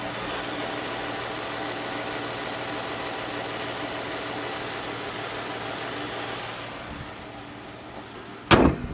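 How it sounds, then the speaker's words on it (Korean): A smooth, quiet 3.6-litre gasoline engine of a Chrysler 300C idles steadily with a low hum, fading slightly near the end before a short sharp clunk. "네, 엔진음도 엄청 정숙했죠?"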